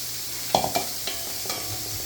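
Okra stir-fried in a pan for poriyal, a constant close sizzle with a few distinct spatula scrapes and taps against the pan.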